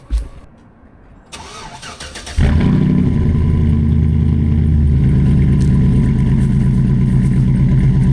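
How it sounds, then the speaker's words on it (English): An old 6-liter Chevrolet truck engine with a shorty header and Flowmaster Super 10 dual exhaust cranks briefly, fires up loudly, then settles into a steady, deep, rumbling idle, close and alone. "Love the sound of that shorty header, Flowmaster Super 10 exhaust, duals out the back."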